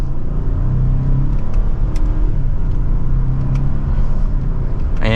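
A 2024 Lincoln Navigator L Black Label accelerates in sport mode from second gear, giving a continuous, moderately loud engine rumble and road noise heard from inside the cabin.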